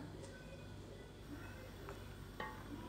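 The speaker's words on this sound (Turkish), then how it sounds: "Şimdi güzelce karıştırıp içerisini kontrol ediyorum" Thick homemade pickle sauce is stirred in a pot, giving soft scraping and bubbling texture with a few brief utensil clinks against the metal, steady and close with no talking.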